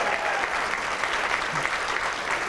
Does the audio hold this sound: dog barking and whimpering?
no